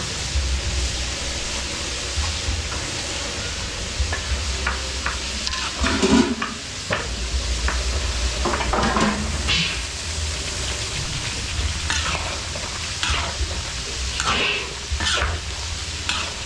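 A pot of caldereta stew bubbling and simmering close by at a village fiesta in Lubao, Pampanga, with a steady hiss and occasional scrapes and knocks of a spoon against the pot.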